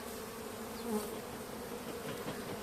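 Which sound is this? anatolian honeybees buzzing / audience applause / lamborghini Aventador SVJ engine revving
anatolian honeybees buzzing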